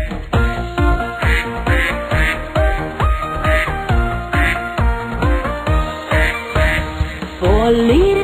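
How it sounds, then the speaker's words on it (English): A cartoon duck quacks in rhythmic bursts over a bouncy children's song with steady, loud music throughout. "Mother duck said quack, quack, quack, quack"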